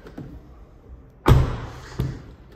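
A car door on a 2022 Škoda Octavia Scout shuts with one solid, close thud followed by a short echo in an enclosed space, then a smaller knock about a second later.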